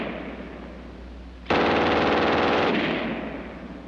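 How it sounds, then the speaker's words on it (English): A German MG 42 machine gun on a tripod opens up after a quiet outdoor lead-in, one loud, continuous ripping burst of about a second and a half that then fades out. "And last, the German 42 on the tripod."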